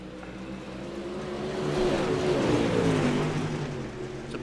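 Dirt track race cars roar around the track at night, their engine notes rising and falling as they pass, with overlapping revving swells building to a loud peak midway and then easing, with no commentary audible.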